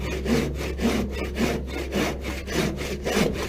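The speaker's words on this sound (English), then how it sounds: "as I keep cutting, okay, I'm making the 45-degree miter cut" Hand saw cutting a 45-degree miter through a wooden board, a close, rhythmic back-and-forth rasp of about seven strokes, loud and steady with no talk.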